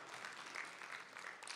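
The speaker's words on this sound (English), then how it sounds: "You should be clapping for that little one." Audience clapping fills the stretch as a steady patter of many hands, faint and distant throughout, with no voices on top.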